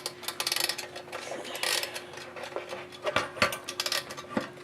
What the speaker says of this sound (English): Wind the clock and to wind the alarm.